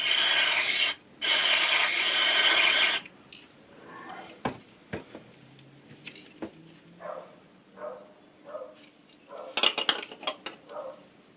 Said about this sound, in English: I'm going to spray in brake fluid in here.